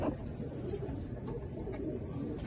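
Golden pigeons in a fancier's loft, soft low cooing close by, continuous and fairly quiet with faint background noise.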